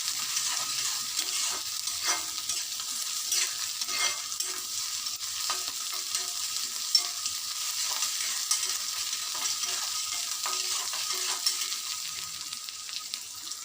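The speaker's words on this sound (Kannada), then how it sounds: "ಇದನ್ನು ಕೆಂಪಾಗಿ ಹುರಿಯೋಣ." Ingredients stirred and dry-roasted in a pan until reddish for a Kannada bitter gourd seed thambuli, giving a steady soft sizzle with repeated scraping stirs throughout, close and even, with no talking.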